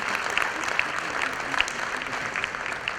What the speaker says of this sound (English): So a big round of applause to all of them.